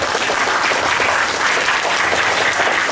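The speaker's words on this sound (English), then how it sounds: "let's give them a big round of applause" A school assembly audience claps steadily and loudly for class 4A students after their performance, a dense, even applause filling the whole span with no break.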